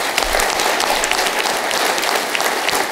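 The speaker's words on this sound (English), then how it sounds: "A round of applause for her." Forum audience giving a round of applause for a young high school student, dense continuous clapping from many hands, loud and even throughout with no talk.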